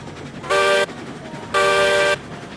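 A locomotive horn sounds two loud, close toots, the second longer, with a quiet running rumble between them.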